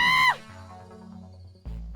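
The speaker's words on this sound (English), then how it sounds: "A scream pierces the chatter." A short, loud scream from a crowd outside a nightclub in the video game Boyfriend Dungeon cuts off quickly, leaving low background hum and murmur before another sharp burst near the end.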